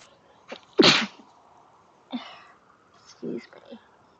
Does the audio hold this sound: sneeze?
yes